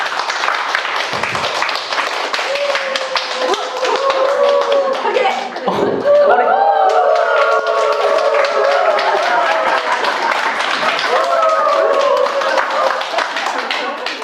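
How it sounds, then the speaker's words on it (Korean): A church congregation claps in sustained applause, a dense patter of many hands with a few voices heard briefly over it. "박수로."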